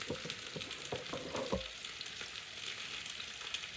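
Salmon croquettes sizzle in a skillet with a soft, continuous frying hiss, plus a few light stirring clicks early on. The sound is fairly quiet and there is no talking.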